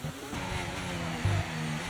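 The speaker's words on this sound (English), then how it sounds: "I can hear his tires squeaking" Race car tires squealing under braking in the F1 24 racing game, a thin steady whine layered over a low engine drone, moderately faint and continuous with a brief louder bump near the end.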